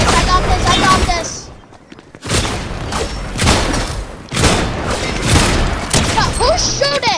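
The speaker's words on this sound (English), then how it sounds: "Who's shooting? That's who's shooting." Rapid bursts of gunfire from a Fortnite capture-the-flag match crackle in loud repeated volleys with a brief lull in the middle, while players talk excitedly over the shooting.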